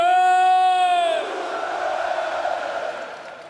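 Football fans at the Frankfurt Römer reception, a loud crowd roar swelling behind a sustained horn-like tone, then a broad mass of cheering that gradually fades.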